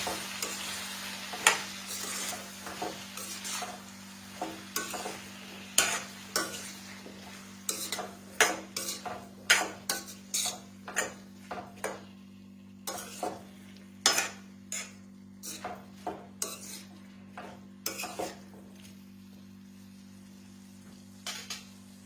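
Potato bhaji stirred in a pan, a long run of sharp spatula clinks and scrapes against metal over a low sizzle and a steady hum, close and without any speech.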